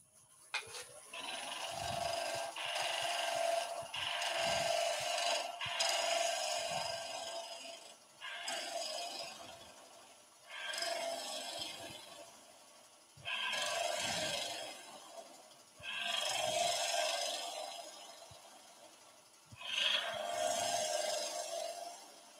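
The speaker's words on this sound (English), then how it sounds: "I'm going to go to a spindle gouge now, just as a little bit friendlier to that surface." A spindle gouge cuts a wooden pepper grinder blank spinning on a lathe, giving a series of about seven raspy, scraping passes separated by short pauses, close and clear with no speech.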